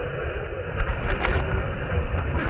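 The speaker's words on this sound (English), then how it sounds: "but I can't hear it over the wind" Wind buffets a microphone outdoors at an amateur radio station set up in a park, producing a steady, loud low rumble with gusty swells throughout.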